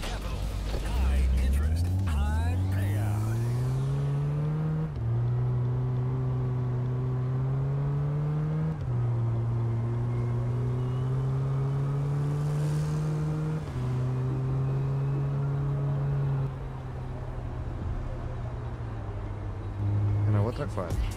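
Car driving in the Big Ambitions video game, a steady engine hum that climbs through several gear shifts, each rise in pitch followed by a drop, with a voice talking over it.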